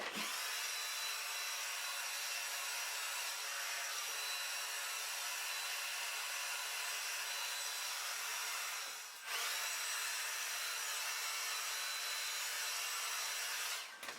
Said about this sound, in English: now let's get going on drying it